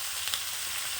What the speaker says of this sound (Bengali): এই তরকারিগুলোকে খুব ভালো করে ভেজে নেব আগে